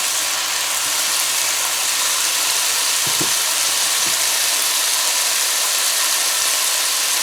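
Rice fries in a pan with seasonings, a steady loud sizzle that barely changes, broken by a couple of faint knocks from stirring near the middle.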